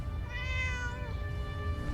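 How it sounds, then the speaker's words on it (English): A cat in the video game Fallout 4 gives one clear, drawn-out meow against a steady low game ambience, close and alone with no talk over it. "Did I hear a cat?"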